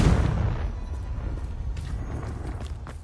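A loud fantasy blasting-spell explosion effect opens with a heavy booming burst, then a long rumbling, crackling tail that fades slowly over about three seconds.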